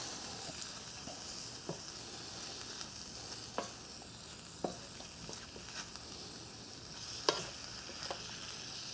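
Onions and horseradish frying in a pan, stirred with steady sizzling and scattered scraping clicks, close and fairly quiet with no talk.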